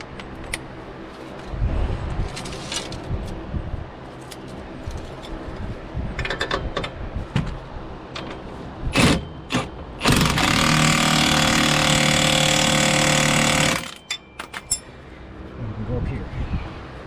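Rear shock absorber bolt being tightened on a 2008-2017 Buick Enclave, with a loud sustained mechanical burst lasting several seconds, likely an impact or power tool, plus scattered clinks and rattles around it.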